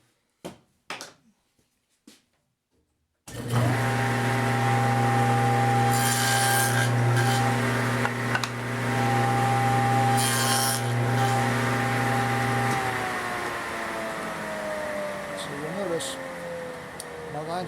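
A table saw fitted with dado blades cuts tenons in wood: a loud steady motor drone with a rough rasping bite as the stock passes, following a few brief knocks and a short quiet stretch.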